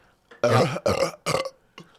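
A burp after drinking LaCroix sparkling water: a loud, drawn-out belch broken into three close, croaky pulses, followed by a short, quieter tail, close to the microphone with no talk.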